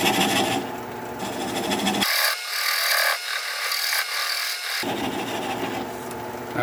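A 3/8 inch swept back bowl gouge cuts a plum wood bowl turning on a lathe at around 400 RPM, giving a steady, close scraping rasp with a brief lull in the low end midway.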